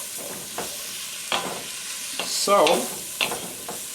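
Garlic, onions and peppers sautéing in a pan for venison chili, a steady sizzle broken by a few scraping stirs of a utensil, with a brief spoken word at the start.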